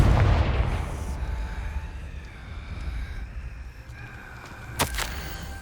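The Confringo fire spell in the Hogwarts Legacy video game, a loud booming explosion at the start that rumbles and fades into a ringing tail, followed later by a sharp crackling burst.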